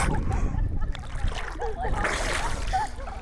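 Someone wades waist-deep through a clear river with a sandy bottom, water splashing and sloshing continuously around the body, close and fairly loud, with a voice speaking intermittently over it.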